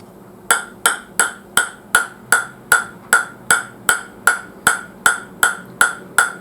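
Ball bouncing repeatedly on a T-Mobile CAF base during a sound test: fifteen sharp, evenly spaced impacts, each with a short ringing decay, close and loud with nothing else heard.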